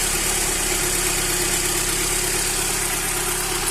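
Mercedes-Benz W124 engine with a Solex carburetor idling steadily during mixture adjustment, a constant close, loud mechanical drone with even vibration and no change in pitch throughout.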